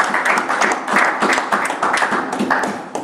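A church congregation claps and cheers together in a steady, lively wash of applause that stays close and fairly loud throughout, with voices mixed into the crowd noise.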